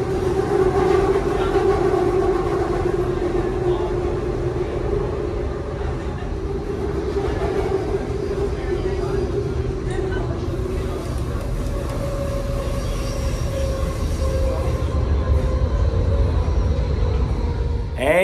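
A train ride in Berlin, Germany: the steady rumble and rolling noise of a moving train carriage runs continuously and fairly loud, with shifting tones and a brief higher whine partway through.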